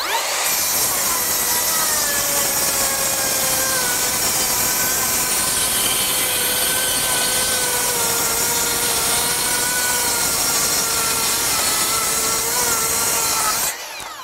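A Makita 40V XGT brushless rear-handle 7-1/4-inch circular saw rips through OSB with a loud, sustained whining buzz and steady motor tone that dips slightly in pitch near the end before cutting off.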